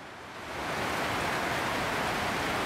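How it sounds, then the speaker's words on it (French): Heavy tropical rain in Tahiti, a loud dense hiss of downpour that swells within the first half second and then holds steady and close, with no voices. "déplacer en scooter avec une pluie comme ça, c'est pas forcément gagné"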